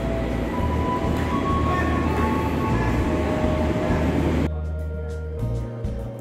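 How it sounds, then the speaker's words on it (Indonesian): A train locomotive rumbles past on track 7 at Jatinegara station, a loud steady roar that cuts off abruptly, leaving quieter station ambience with distant thumps. "Lokomotif kereta."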